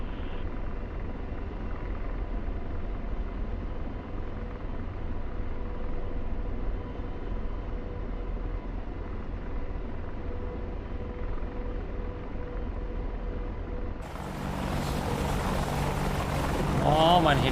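Steady drone of a helicopter flying in a video game, a constant rotor and engine hum throughout, with gamer chatter faintly over it and a brighter louder wash of noise near the end.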